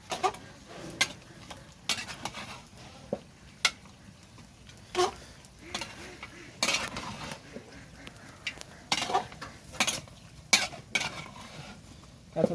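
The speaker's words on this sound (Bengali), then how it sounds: "দে সাকিব একটু লাড়া দিয়ে দিই এটা" Duck curry is stirred in a pot over a clay stove: a soft sizzle underneath irregular metal scrapes and clanks from a spoon against the pot, repeating at an uneven rhythm. A voice briefly speaks between strokes.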